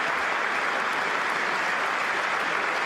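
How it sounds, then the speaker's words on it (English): Steady audience applause fills the whole stretch: dense, even clapping that holds at a constant loud level from start to finish, with no voices above it. "That's enough applause."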